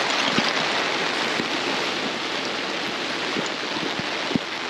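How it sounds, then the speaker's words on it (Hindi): Heavy monsoon downpour with water pooling and flowing near a railway line, a steady broadband hiss of rain holding at close range throughout, with a few sharp drips or splashes standing out. "जिस हिसाब से भयंकर बारिश हो रही है"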